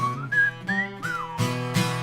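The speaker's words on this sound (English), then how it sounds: "Double whistle." Human whistling in a rising and falling double phrase, close and clear, followed by short bursts of other sound.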